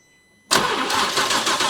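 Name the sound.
Lamborghini Huracan engine starting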